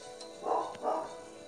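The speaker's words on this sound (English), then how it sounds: "You can probably hear the dogs." Two muffled, fairly distant dog barks come in quick succession, faint against a quiet background.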